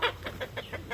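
Roosters kept as backyard poultry cluck in a quick, rhythmic series of short calls, close and clear, about six clucks in a single second.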